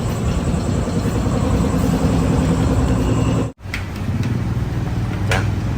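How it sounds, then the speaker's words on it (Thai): A Ford car engine runs at a steady loud idle close by, briefly cut off with a short silence, then idling again with a few light clicks. "สตาร์ทเครื่องยนต์มานิ่งนะ"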